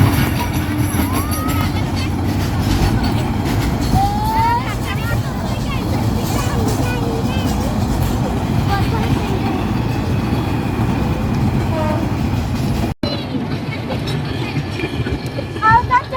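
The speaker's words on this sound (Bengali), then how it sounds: "লাইবা দৌড় ট্রেন চলে যাচ্ছে।" A passing train rumbles and clatters steadily and loudly for the whole stretch, mixed with crowd babble and scattered voices nearby.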